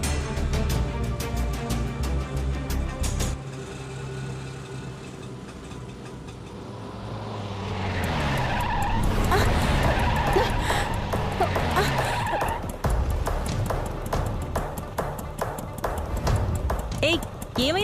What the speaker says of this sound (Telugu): ఏమైంది అంత సడన్ గా బ్రేక్ కొట్టావు?